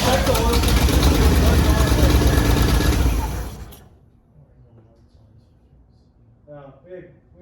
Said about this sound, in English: I want to get an exhaust shot to see what the exhaust sounds